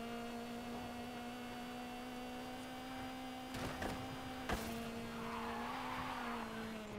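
A Renault 4L driven in Forza Horizon 5 gives a steady, droning engine hum that holds an even pitch throughout, quiet and continuous, with a couple of brief sharper bumps midway.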